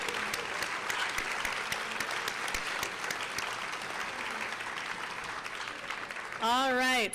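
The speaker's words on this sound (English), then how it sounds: "one big round of applause." Big round of applause from the audience at a university white coat ceremony, dense, lively clapping that runs steadily, then a loud, rising whoop from someone near the end.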